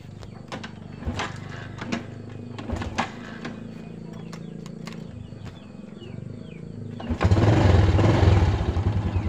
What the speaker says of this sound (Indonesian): Tinggal kita coba engkol untuk mesinnya